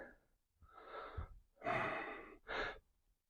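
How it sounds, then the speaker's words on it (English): Several strong breaths are taken and released during a standing stretching exercise, each a breathy, close rush of air, with short pauses between. "Exhale."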